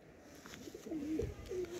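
Pigeons at a loft in Lucknow, a good breed with purple feet, give soft, low, rolling coos. The coos rise faintly in the second half over a quiet, murmuring background.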